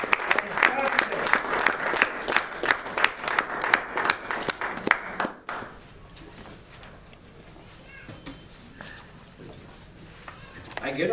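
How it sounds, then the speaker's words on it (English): An audience gives a big round of applause at a talk event, loud dense clapping for about five seconds that stops abruptly, followed by quieter room tone and soft talking. "Please welcome him with a big round of applause."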